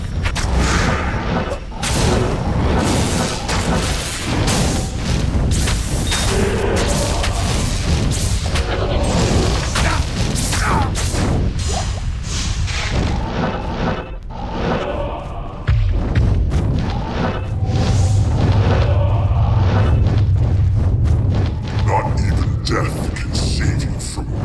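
Heavy booming impacts from Armageddon and Meteor fire spells in Diablo 2, a steady barrage of thuds and crashes rolling on continuously at close range.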